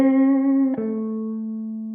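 Electric guitar played through a Headrush pedalboard with an 11 reverb and jazz club effect: a loud, sustained, harmonically rich note shifts slightly in pitch partway through and rings on without any talking.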